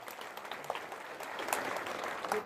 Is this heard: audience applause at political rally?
yes